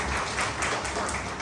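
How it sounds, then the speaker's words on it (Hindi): A church congregation claps together during a Sunday sermon, a steady, even patter of many hands at moderate volume. "ताली बजाओ प्रभु के लिए इस बात पे"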